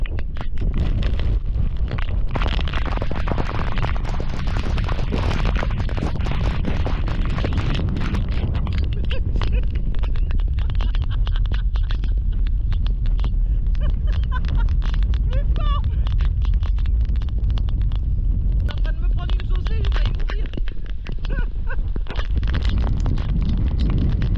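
Constant wind buffets the microphone with a heavy, rumbling roar throughout, with indistinct voices faintly underneath.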